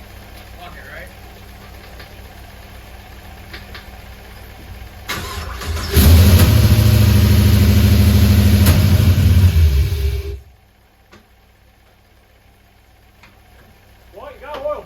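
A freshly built 6.0 V8 in a Pontiac GTO fires up on its first start and settles into a loud, steady high idle for about five seconds before it is shut off. People talk quietly before and after.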